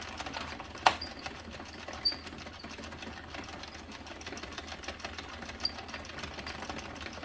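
An Addi circular knitting machine cranked steadily with Red Heart Comfort yarn gives a soft, continuous rattling clatter, close and fairly quiet, with a few sharper clicks.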